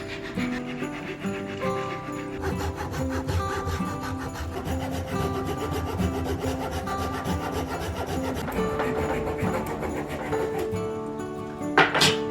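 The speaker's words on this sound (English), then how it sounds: "And then hacksaw." A hacksaw cuts through wooden sticks lined up side by side, making steady rasping strokes that run close and continuous throughout, with no talking.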